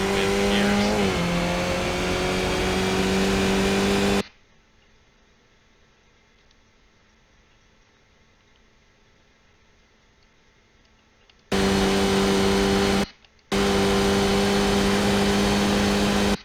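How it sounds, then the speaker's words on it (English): Skip Barber race car in the iRacing game at Mount Panorama, a loud, close engine whine stepping up through the gears, cutting out for several seconds, then roaring back in two short bursts. "So shifting into second, shifting into third, fourth and fifth, and all the way up the gears."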